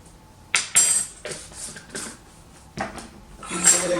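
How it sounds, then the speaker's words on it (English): Spoon stirring a dry taco seasoning spice mix with salt and pepper in a bowl, giving several scraping, clinking strokes in irregular bursts, close and fairly quiet. "And give it a good stir."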